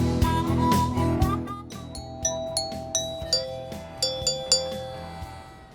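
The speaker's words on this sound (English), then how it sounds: "These are the dinner chimes that are calling you to Lou Mitchell's on West Jackson Boulevard here." Dinner chimes ring at Lou Mitchell's, a Chicago diner on West Jackson Boulevard, a bright sequence of bell-like tones struck one after another over a low steady murmur of room noise, clear and fairly close.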